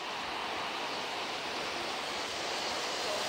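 Waterfall on the Boyana Waterfalls hike on Vitosha mountain, a steady broadband roar of falling water that stays close and constant throughout, with no voices.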